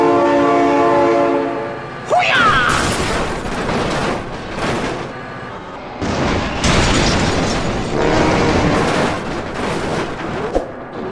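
A train in the BeamNG driving game, its loud blaring horn held for a couple of seconds and then giving way to heavy rumbling, crashing and rolling noise that continues throughout.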